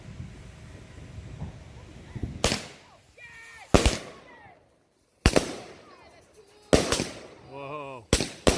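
A 27-shot Epic Force firework cake goes off in a backyard for the Fourth of July. Several loud, sharp bursts land at irregular intervals, with crackling and whistling tails between the blasts.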